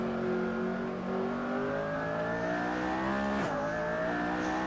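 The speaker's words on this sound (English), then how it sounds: "Man, this car sounds so good." A McLaren P1 in the Assetto Corsa racing game at Silverstone, its engine revving steadily upward through the gears with a brief dip at a shift, loud and close with no talking.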